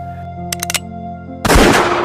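A sequence of gunshots from a pistol, with a few sharp reports followed by a louder, sustained blast of gunfire over a dramatic background tone, with no talking.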